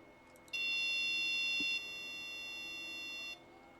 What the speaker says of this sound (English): And I can hear the motor running behind me.